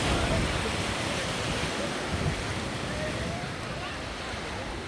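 Strong ocean surf rolling onto the beach at Noja, Cantabria, Spain, a steady loud broadband wash with gusts of wind buffeting the microphone throughout.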